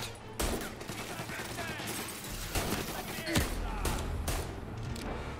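Gunfire in the video game Mafia: Definitive Edition, a quiet flurry of sharp shots and bursts scattered through several seconds, mixed with game sounds and someone talking over it.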